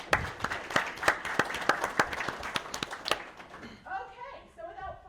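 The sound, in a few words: audience applause for the winners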